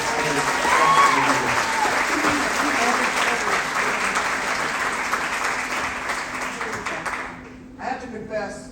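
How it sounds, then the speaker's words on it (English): A theater audience gives sustained applause for the volunteers, thick clapping with a few cheers that fades out near the end, followed by a brief spoken word. "So how about giving them a round of applause?"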